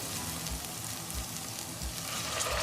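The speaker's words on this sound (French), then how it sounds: "À présent, on va les déglacer avec un peu d'eau." Softened vegetables in a pan sizzle steadily as a little water is added to deglaze them, a close, even hiss with faint crackles throughout.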